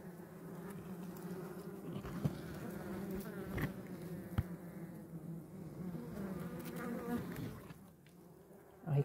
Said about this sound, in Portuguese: A riqueza de uma abelha é o enxame.